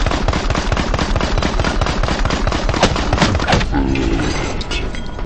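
Rapid gunfire rattles nonstop in the Battlefield 1 beta during a Rush match, a loud, dense stream of shots filling the clip before easing into scattered cracks near the end.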